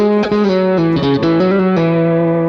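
An electric guitar played through an amp preset with reverb ambience: a few ringing plucked notes and chords sustain under a spacious reverb tail.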